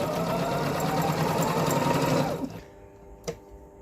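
A Singer MX2660 sewing machine runs a plain straight stitch, a steady close mechanical whir with a fast rhythmic clatter for about two and a half seconds before stopping, followed by a single faint click.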